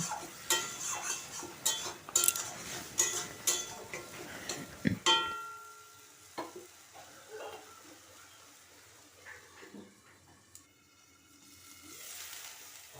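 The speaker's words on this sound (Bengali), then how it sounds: "আর দিয়ে দিচ্ছি হাফ চামচ আমচুর পাউডার এরপর খুব ভালো করে মিশিয়ে নেব মশলাটা আর সুন্দর করে ঢেকে আমি কষে নেব" Spice paste with amchur powder frying in a pan, with a run of sharp clinks and scraping bursts from stirring over the first five seconds, then settling into a softer steady sizzle under a lid.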